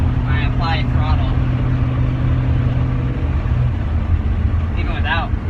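A Lexus SC400 drift car engine runs under throttle with a loud, continuous low rumble and droning hum, while people talk over it near the start and the end.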